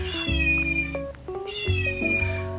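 Two electronic-sounding meows from a Hello Kitty Build-A-Bear toy's sound chip play close and clear, one after the other, each a short tonal cat call with a slightly synthetic edge.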